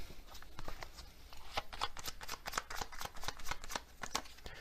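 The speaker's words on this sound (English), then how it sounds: "Let's get another one of these Hermit Tarot cards." Tarot cards are shuffled close by in a quiet, steady stream of rapid papery flicks and slaps lasting a few seconds, with no speech.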